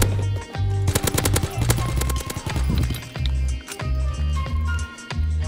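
Rapid bursts of M1A1 carbine fire in the World War II game Call of Duty WW2 crack out in quick repeated volleys, loud and close over a pulsing game soundtrack.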